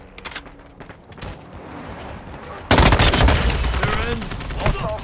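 In Call of Duty: Modern Warfare 2, sparse shots at first give way to a loud, sustained burst of rapid automatic gunfire, close and dense, with voices briefly heard under it.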